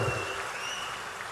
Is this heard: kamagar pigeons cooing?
no